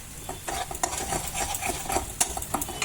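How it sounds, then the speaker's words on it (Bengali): A spice paste of cumin, coriander, turmeric and chilli powder frying in oil, stirred steadily so the soft sizzle is broken by repeated scraping strokes and light utensil clicks against the pan. "তো মশলাটা তেল ছাড়ছে ধীরে ধীরে।"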